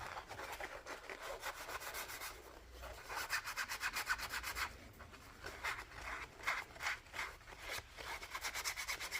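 A cloth or wipe rubs ink residue off a craft surface, making quick, rhythmic back-and-forth scrubbing strokes in short bursts with brief pauses, close and fairly soft, with no speech.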